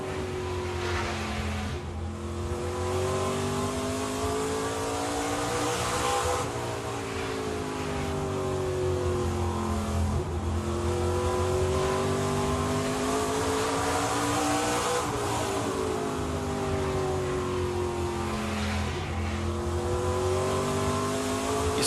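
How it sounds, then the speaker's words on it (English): Onboard a race car lapping Toledo Speedway in an ARCA Menards Series race, the engine roaring loud and close, rising and falling in pitch as the driver lifts off the throttle for the corners and accelerates down the straights. "Riding on board with Sam Mayer with our General Tire camera, let's listen to him as he goes around this racetrack"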